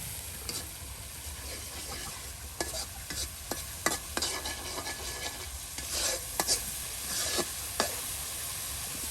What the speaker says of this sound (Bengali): আর এখন এই যে মশলাগুলো আপনার কষানো হচ্ছে